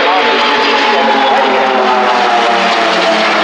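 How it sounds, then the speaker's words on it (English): An F-18 Hornet jet fighter makes a fly-past at the Royal International Air Tattoo at RAF Fairford in 2018, with a loud, steady, broadband roar that holds for several seconds. "A fly pass with the F-18 Hornet jet fighter."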